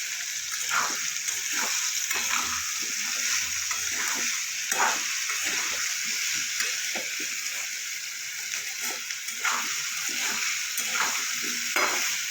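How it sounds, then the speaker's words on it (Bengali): Potatoes frying in a pan for a Bengali white potato curry are stirred with salt, a steady hiss of sizzling oil under repeated scraping strokes of a spoon, close and continuous with no talk. "তার সাথে স্বাদ মতো লবণ দিয়ে এবার ভালো করে মিশিয়ে নেব"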